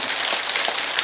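Applause from a lecture audience fills a short burst of steady, dense clapping, loud and continuous with no voices over it.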